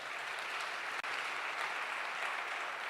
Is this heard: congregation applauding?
yes